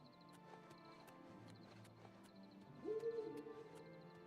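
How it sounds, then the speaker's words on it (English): In a video game, an owl near a castle bridge gives a single loud, low hoot partway through, standing out over a quiet ambient background with faint repeated ticks. "Loud ass owl, holy crap."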